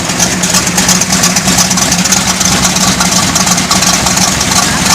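A car engine idles steadily with the hood open, a loud, even mechanical hum with a constant low drone throughout and no talk.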